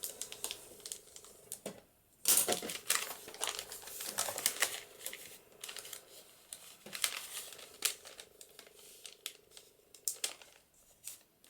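Paper bag being folded and crinkled by hand while a journal is assembled, with soft rustling and sharper crackling bursts coming close and intermittently over about eleven seconds, no talk.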